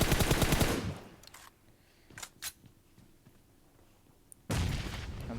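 Gunfire in PUBG, played as a three-man squad: bursts of loud broadband shots open the clip, a few sharper isolated shots follow in the middle, and a final loud burst closes it, with no talk over them.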